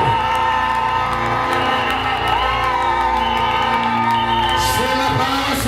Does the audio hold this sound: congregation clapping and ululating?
yes